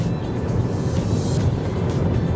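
A 2019 Hyundai Tucson GLS 2.0 diesel accelerates gently from about 80 km/h, its low engine drone and road noise steady and continuous from inside the cabin.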